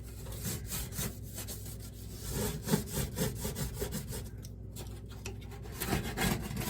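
A credit card with natural cleaner scrubs a stove top: quiet, close, rhythmic scraping and rubbing strokes repeat steadily throughout.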